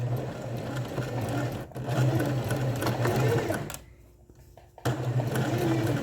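A sewing machine stitching elastic lastex thread onto a blouse whirs loudly in steady bursts, pausing briefly for a back-stitch before running on, with someone speaking quietly underneath.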